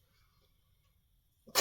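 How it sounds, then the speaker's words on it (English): A single short, sharp sneeze bursts out suddenly near the end after near silence, close and fairly loud. "Oh, I'm going to sneeze."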